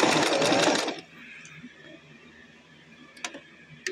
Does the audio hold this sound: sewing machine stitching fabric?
yes